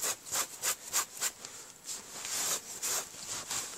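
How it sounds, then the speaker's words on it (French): A cloth wipes excess ink product off a craft surface in a quick series of soft, close rubbing strokes with a light scratchy texture, and no talking. "Je vais prendre un chiffon pour enlever le surplus de produits, tout doucement, délicatement."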